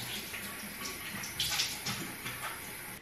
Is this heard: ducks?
no